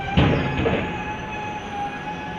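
A MEMU passenger train arrives at Dumri Khurd halt station, with a faint steady rumble, a brief squeal of wheels and a constant high electrical whine from the train.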